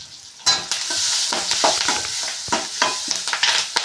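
Fish pieces are mixed with curry leaves, salt and turmeric for a fish fry, giving a steady, close, wet hiss and scraping broken by soft squelchy stirring strokes, with no talking.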